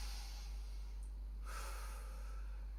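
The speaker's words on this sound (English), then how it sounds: "Okay, and go for another breath." A deep breath drawn and released during a post-workout stretch, a soft airy rush heard close over a constant low hum.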